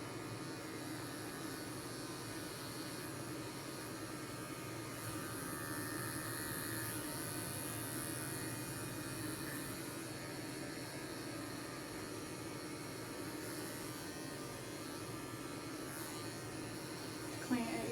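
Electric clippers buzz steadily while shaving the ear hair of a poodle, a faint, even hum that holds without pause for the whole stretch.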